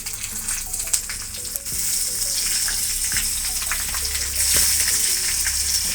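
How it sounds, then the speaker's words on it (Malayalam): Dried red chillies and mustard seeds frying in hot oil for a prawn roast, giving a steady, fairly loud sizzle with scattered crackles and pops throughout, no voices. "വറ്റൽമുളക് ഇട്ട് കൊടുക്കണം."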